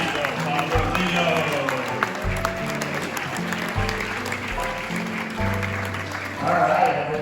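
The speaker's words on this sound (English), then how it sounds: "Big round of applause for Father Leo." Applause from the audience at a LifeTeen fundraiser for Father Leo: a broad, sustained patter of clapping from a crowd. Low voices and other room sounds run beneath it, and it swells again near the end.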